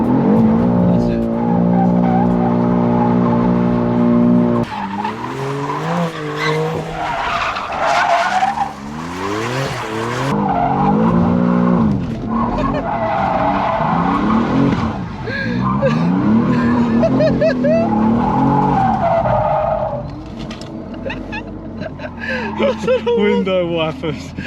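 A 600hp BMW G87 M2 drifting in drift mode at Santa Pod, with loud, continuous tire squeal and skidding over a revving engine that rises and falls throughout.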